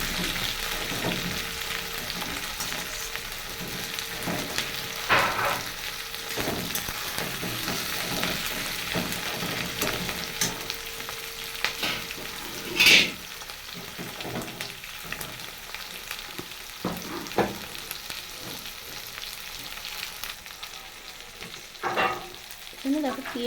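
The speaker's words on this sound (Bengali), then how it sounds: "এখানে দেখো পেঁয়াজ আর রসুনের কিন্তু ভাজা হয়ে গেছে।" Onion and garlic greens sizzle in hot oil in a pan for handi chicken, a constant crackling fry broken by occasional louder scrapes and clacks of a stirring spoon, close and without talk.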